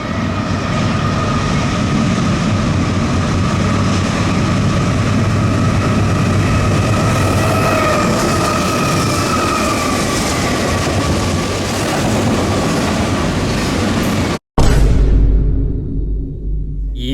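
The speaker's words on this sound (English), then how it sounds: "Norfolk Southern eastbound intermodal 260 appeared with a very rare ACC trailing third" A Norfolk Southern eastbound intermodal freight train rolls past close by, a loud continuous rumble with rail screech and clatter lasting the whole span, then cutting off abruptly near the end.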